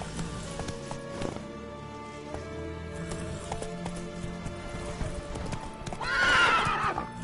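Roach, the horse in The Witcher 3, gallops with a steady rapid clip-clop of hooves and then lets out a loud whinny near the end.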